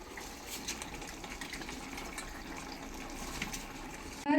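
Water poured from a tumbler onto rice in a pot for chicken biryani, a soft, steady trickle and splash that runs quietly throughout and ends in a brief louder clatter.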